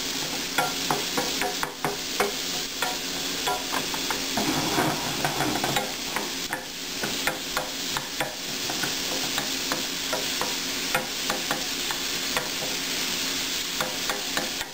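A quick saute in olive oil in a pan, continuous sizzling frying under repeated clacking taps and scrapes of stirring against the pan, close and fairly loud.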